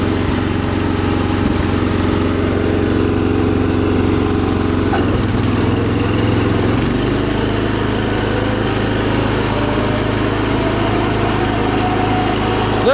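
A John Deere 210 tractor with a Kohler K341 16 HP engine runs loud and close, a steady droning hum whose pitch drops midway as the load or throttle shifts, then continues evenly.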